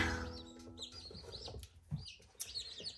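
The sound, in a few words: newly hatched chicks peeping in a brooder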